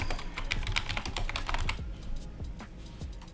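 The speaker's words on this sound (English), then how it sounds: "Jeez, my typing is terrible." Rapid typing on a computer keyboard, a steady close patter of key clicks running throughout with no talking.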